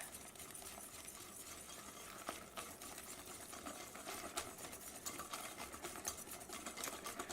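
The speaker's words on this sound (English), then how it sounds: "Now it's time to whisk in our dry ingredients. And we just want to whisk this until it's well combined." A whisk works dry ingredients into cornbread batter in a bowl, making a rapid, steady, even scraping rhythm that continues alone and close without pause.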